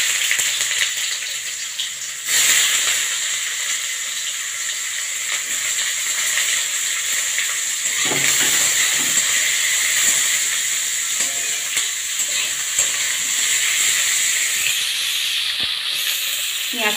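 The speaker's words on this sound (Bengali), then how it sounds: "পেঁয়াজটা ভালো করে ভেজে নিতে হবে।" Onions frying in a pan with dried chili and bay leaf for a rohu fish and maan kochu curry, giving a loud, continuous hiss of sizzling oil close by with a few faint knocks.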